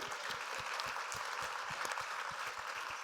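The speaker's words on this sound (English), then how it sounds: "Let's just get a clap for the yes" A conference audience at a leadership keynote claps together, a brisk continuous patter of many hands filling the hall at a steady level for a few seconds.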